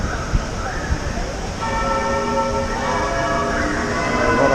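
A bell rings out in ringing, sustained tones that begin partway through and carry on to the end, standing clearly above a steady outdoor background with a couple of faint knocks early on.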